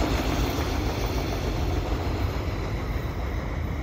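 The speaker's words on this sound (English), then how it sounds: "And here comes the end of the train." The tail end of a CN mixed freight train with auto racks rumbles past on Donagani Street in Pointe-Claire, a steady low rolling drone of wheels and railcars with no distinct clacks or horn.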